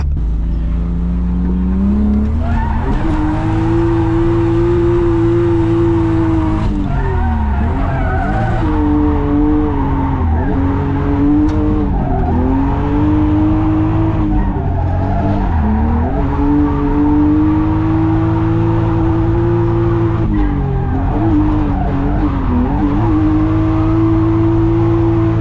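A drifting car screeches its tires continuously in long sliding squeals over a loud revving engine, the pitch swooping as the car slides and recovers, close and intense with no talking.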